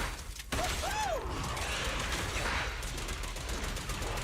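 Rapid gunfire from the video game Zenless Zone Zero crackles and clatters in a dense, continuous burst with mechanical rattling, fairly quiet overall and steady throughout.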